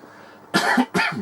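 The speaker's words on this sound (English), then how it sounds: "As you can probably tell from all my coughing and sniffing and things." An ill person coughs twice in quick succession, two loud, harsh bursts close to the microphone after a short stretch of quiet room tone.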